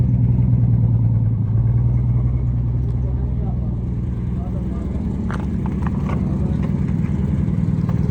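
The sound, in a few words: Toyota Prado engine as it drives out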